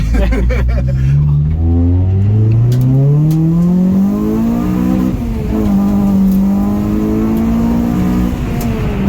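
A Honda Accord Type R accelerates hard, its engine climbing in pitch through the gears with loud, rising surges and brief drops at each shift, heard from inside.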